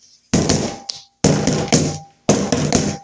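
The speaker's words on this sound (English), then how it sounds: "we're going to knock some of the air bubbles out of this" A pound cake pan with brown butter and black walnut batter is rapped on a counter three times, each a loud close thud with a short rattle, separated by brief silences.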